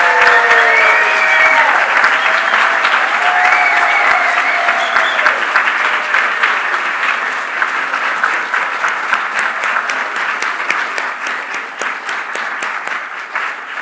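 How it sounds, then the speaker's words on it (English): An audience applauds students at a 2025 student awards ceremony, loud sustained clapping that starts with a few cheers and thins gradually into scattered individual claps. "please give our students one more round of applause"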